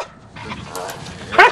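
A search and rescue dog barks once, sharply and loudly near the end, after a low murmur of background noise and faint voices.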